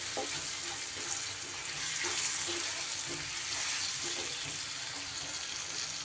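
Tomatoes with salt frying in a pan over lowered gas, a steady close hiss and sizzle with faint scraping of stirring running throughout.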